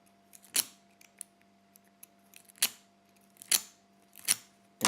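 A lock pick is zipped rapidly across the pins of a euro cylinder lock with a window logo on the key bow, giving sharp, close scraping rasps repeated about five times against quiet, with no talking.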